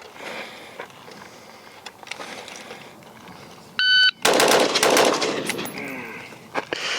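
A PSA JAKL rifle fires five rapid shots in a quick burst, sharp loud reports close together, preceded by a short electronic beep from a shot timer, with a little room echo after.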